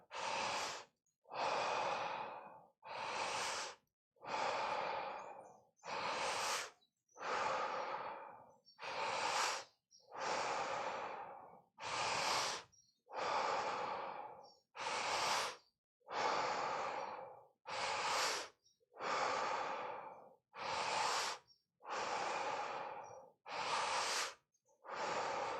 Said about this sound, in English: Keep breathing. 10 more breaths.